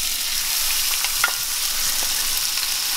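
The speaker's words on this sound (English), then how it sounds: "I'm gonna put the garlic and chili." Garlic and chili fry in hot cooking oil for a Thai tamarind sauce, giving a steady, loud, close sizzle with small crackles and occasional stirring noises throughout.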